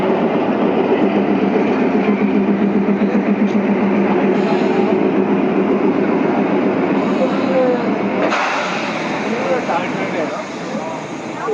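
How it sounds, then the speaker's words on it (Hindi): Toy train running on the narrow gauge Kalka–Shimla line near Summer Hill, heard as a steady rumbling, rattling roll of wheels and carriages throughout, louder and close before easing a little toward the end, with people talking over it. "ये देखिए उधर से शिमला की तरफ से कोई ट्रेन आ रही है"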